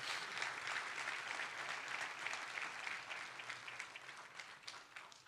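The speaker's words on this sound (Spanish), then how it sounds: "Denle un fuerte aplauso a Dios por eso." A church congregation gives a sustained round of applause during a sermon, dense steady clapping from many hands heard from a distance, fading slightly toward the end.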